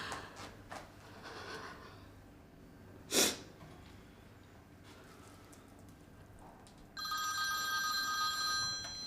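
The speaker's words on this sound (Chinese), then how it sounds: "王进成怎么不接电话呀？" A telephone rings unanswered in a hospital, a faint electronic ring that starts partway through and holds steadily, after quiet room tone broken by a single sharp sniff.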